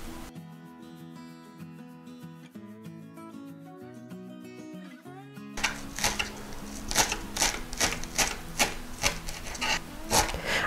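A knife chops boiled chicken fillet into small cubes on a board, giving quick, evenly spaced close knocks that follow a stretch of soft music.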